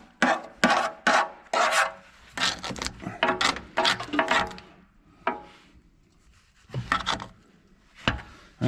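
A cab being stripped of old glue on a White American 80 tractor, the residue wiped and scrubbed off with mineral spirits in short, uneven rubbing bursts, close and fairly loud with pauses between strokes.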